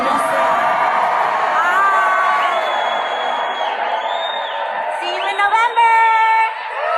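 A huge town hall rally crowd of thousands in Greeley, Colorado, roars with sustained loud cheering, whoops and yells, rising into shrill excited shouts and whistles toward the end.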